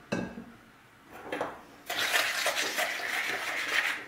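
Slightly warm water is poured from close by onto yeast mixed with a tablespoon of sugar; a few soft clinks come first, then a steady, bright splashing stream that runs for the last couple of seconds.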